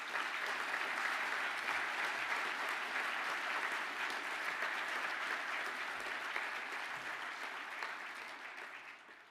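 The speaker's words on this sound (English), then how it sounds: "Can the classes of automation and robotics please now stand up for a well-deserved round of applause?" A graduation ceremony audience gives sustained, dense applause for automation and robotics classes, holding steady at a moderate, somewhat distant level before tapering off near the end.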